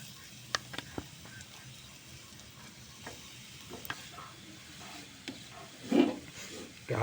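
Carrots frying gently in ghee in a pan over low heat, a faint, quiet sizzle broken by a few scattered scrapes and taps of stirring.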